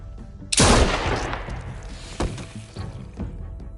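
Loud gunshots in a PS4 video game: one sharp, booming blast followed by a second crack about two seconds later, then a scattering of smaller thuds and debris-like clatter as the echo fades.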